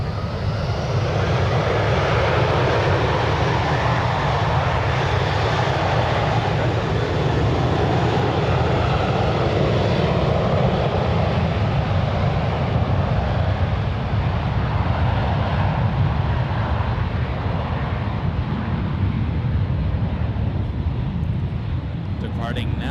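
A United Airbus A320 departs San Francisco airport, its deep engine roar loud and sustained throughout before easing slightly toward the end, with voices talking faintly beneath it.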